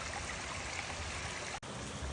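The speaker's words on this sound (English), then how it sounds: "that water is flowing around, mixing back in with the cascading water coming over the Weir flashboards" Water cascades over the flashboards of a lake dam weir on a creek, a steady, faint, continuous rushing wash heard alone from nearby.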